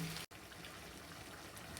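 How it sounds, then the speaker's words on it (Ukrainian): Water, about 150 ml, pours steadily into a pot of braised meat with bay leaves, a soft continuous trickle heard faintly and close, with a brief cut near the start. "доливаю 150 мл води"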